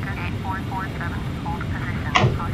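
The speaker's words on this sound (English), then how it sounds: "I'm using reverse thrust to push the plane back" Airliner reverse thrust in a flight simulator game, a steady low engine roar throughout, with a person talking over it and a brief louder burst near the end.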